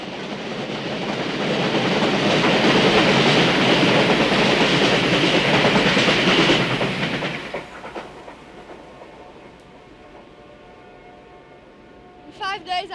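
A train rumbles past with a loud, sustained roar that builds over several seconds and then fades, leaving quieter rolling noise and a brief high whistle-like tone at the end.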